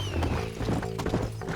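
Horses gallop in Red Dead Redemption with rapid, close clip-clop hoofbeats and a brief whinny, loud and continuous with game ambience behind.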